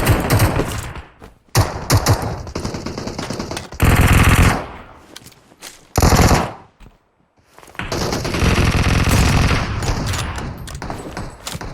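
Automatic SCAR rifle fire in PUBG Mobile, loud bursts of rapid shots broken by brief pauses and one near-silent gap, then a long sustained volley toward the end.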